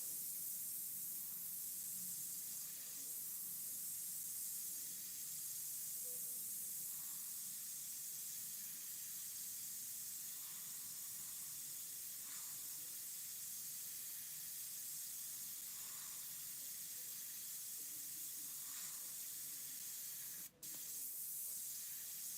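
A paint spray gun mists yellow paint over a painted firewood-and-flames scene, a steady soft hiss running unbroken and close throughout, with one brief click near the end.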